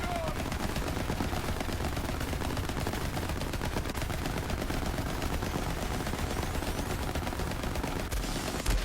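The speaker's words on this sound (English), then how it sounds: "I'm getting some decent ricochets on him." Rapid automatic gunfire ricocheting off an enemy in Borderlands 3. A loud, unbroken hail of shots and impacts continues close by for the whole stretch.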